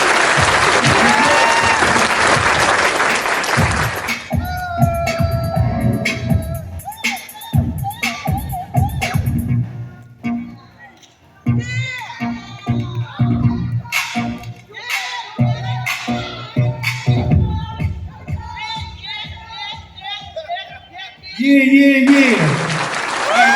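Loud applause from a performing arts center audience for the dancers opens the stretch, then gives way to shouts, talk and scattered cheering before another strong burst of clapping and crowd noise swells at the end.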